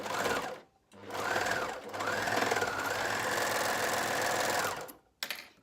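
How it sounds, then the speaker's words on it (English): Overlocker stitching a shoulder seam, running in three loud whirring bursts with short stops between them, the longest lasting a few seconds. "and now I'm going to overlock."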